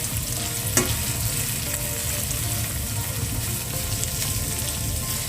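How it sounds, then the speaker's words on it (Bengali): Mixed vegetables fry in a pan for egg fried rice, giving a constant close sizzle with a brief clatter of stirring near the start and no talking. "এখন এগুলোকে 2-1 মিনিটের জন্য একটু ভেজে নিচ্ছি।"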